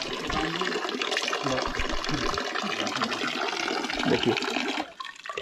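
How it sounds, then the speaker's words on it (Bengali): Natural spring water pours steadily into a small bamboo bottle close by, a continuous gushing splash outdoors that cuts off near the end, with one brief spoken word. "এই বোতল ভরছি দেখুন, ছোট্ট বাঁশের বোতল"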